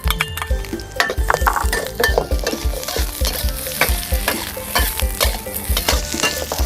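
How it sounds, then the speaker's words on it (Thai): Shallots and green, yellow and red bell peppers are stir-fried in a pan, with a loud close sizzle and quick, rhythmic spatula scrapes and metallic clinks throughout, no speech. "ผัดหอมผัดแล้วก็ผัดพริกหวานสามสีครับ สีเขียวเหลืองแดงลงไปรวมกันผัดครับ"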